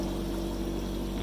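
Water rushing steadily through a duck pond gravel filter during cleaning, a continuous close pouring, pumping flow with no break and no talking.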